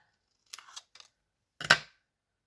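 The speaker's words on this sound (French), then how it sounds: "Et on va couper ça avec les ciseaux." A few quiet snips of scissors cutting paper: a cluster of small clicks, then one sharper, louder cut, all close and isolated against silence.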